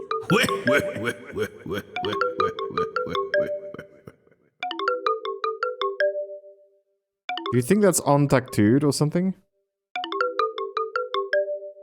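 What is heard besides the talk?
cell phone ringing in video game Deadly Premonition 2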